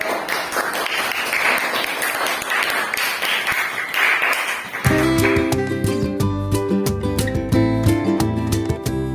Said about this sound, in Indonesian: Tepuk tangan mulai lagi.